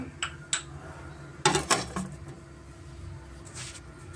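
A heavy object clanks onto the lid of a covered pan used for baking wheat-flour butter cookies on a medium flame, two sharp metallic knocks with a brief rattle amid faint kitchen clinks, no talking.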